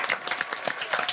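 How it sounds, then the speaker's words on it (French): Audience applauding after a Tekken 7 gaming session, a short burst of moderately loud, dense clapping with no voices. "on peut les applaudir en tout cas"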